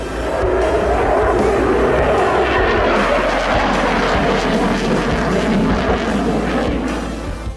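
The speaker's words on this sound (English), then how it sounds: "A proven fighter jet relevant to both traditional and asymmetric threats" A Dassault Rafale fighter jet roars loudly overhead in a sustained, powerful rumble that fills the whole span and fades slightly at the end.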